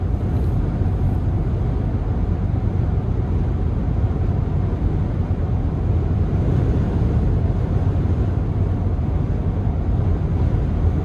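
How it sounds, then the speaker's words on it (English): Steady low wind rumble buffeting the microphone inside a 2026 Nissan Frontier S 3.8 V6 pickup on a test drive, constant and fairly loud throughout, with no talking. "it's very windy out today"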